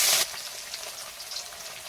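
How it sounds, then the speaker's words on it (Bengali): Rohu fish pieces fry in hot oil, salted beforehand: a loud burst of sizzle as a piece goes in, then a steady crackling spatter that continues close up, with no voices. "তেলের মধ্যে আমরা একটা একটা করে মাছগুলো দিয়ে নেব।"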